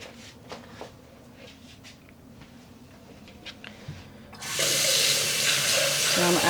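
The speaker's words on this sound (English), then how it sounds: "about an extra liter of water" Tap water gushes into a dye pot for home yarn dyeing, starting abruptly after soft clatter and a brief voice, then running loud and steady until the end.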